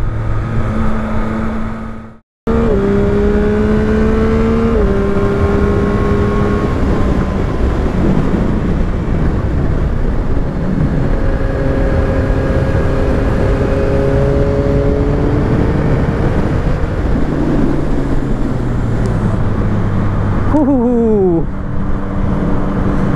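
Yamaha MT-09 SP motorcycle engine pulling hard under acceleration, loud and close with rising and stepping engine tones and steady wind rush, a brief cut near the start and a quick rev flourish toward the end.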